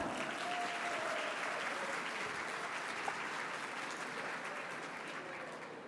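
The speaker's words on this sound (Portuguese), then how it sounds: "vamos receber com aplausos e muito carinho Paula Arraca" Audience applause welcoming a speaker onto the stage at a leadership event, a soft, distant, continuous patter of clapping that tapers slightly toward the end.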